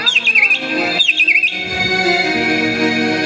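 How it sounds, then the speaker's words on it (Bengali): Two bright, clear bird chirp phrases sound close and loud in quick succession, each a rapid warbling trill, followed by a quieter background. "পাখিদের কিচিরমিচির ডাক"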